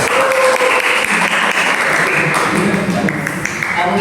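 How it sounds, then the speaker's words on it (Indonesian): Applause from a classroom audience at the close of a group presentation on interpersonal communication systems, steady and fairly loud clapping filling the whole stretch with faint voices underneath. "Tepuk tangan buat kita semua teman-teman ya."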